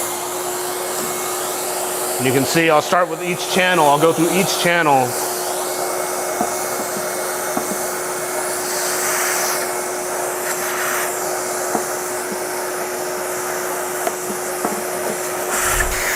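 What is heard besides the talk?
vacuum cleaner running while cleaning a filter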